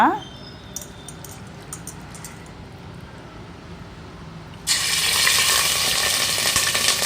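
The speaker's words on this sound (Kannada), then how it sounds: "ಈಗ ಚಿಕನ್ ಹಾಕ್ಕೊಳ್ಳೋಣ." Chicken is dropped into hot oil in a cooker pot. A voice talks over a faint background at first, then a loud, bright sizzle bursts in and holds steady to the end.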